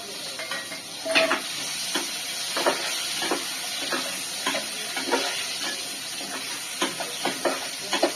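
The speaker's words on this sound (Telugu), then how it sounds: "లైట్గా ఫ్రై చేసుకుంటున్నాను పచ్చిమిరపకాయని" Green chilies fry in oil in a pan with a steady close sizzle and hiss, punctuated by regular light scrapes and taps of stirring, no voices.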